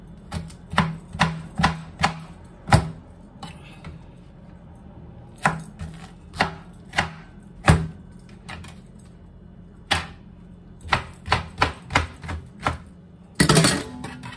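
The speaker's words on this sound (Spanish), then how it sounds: "Vamos a picar los pedacitos." Repeated knife chops strike a cutting board in irregular bursts as beetroot, pineapple and lime are cut into small pieces, sharp and close, with brief pauses between runs of quick cuts.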